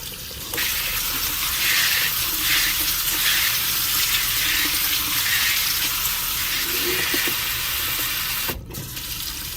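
Tap water runs steadily over strawberries being washed in a kitchen sink, a constant close hiss and splash with slight shifts as the fruit is moved, then a brief stop near the end.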